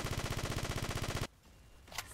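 Rapid automatic gunfire in a video game, a loud, steady stream of evenly spaced shots that stops abruptly, followed by fainter scattered game sounds.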